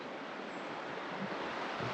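Rushing water of the Cache River, swollen after rain, makes a steady broadband roar heard from the bank, soft and continuous with no voices.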